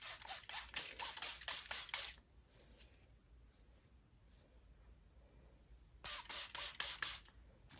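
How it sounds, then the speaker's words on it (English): A spray bottle fires water onto hair in rapid bursts, a quick cluster of hissy spritzes, then a quiet pause before another rapid series of sprays. "I'm just gonna be spraying some water on my hair."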